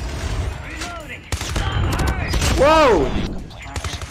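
A PDW-57 submachine gun firing in a shooter video game, loud close bursts with a whooshing effect, while a voice exclaims over it.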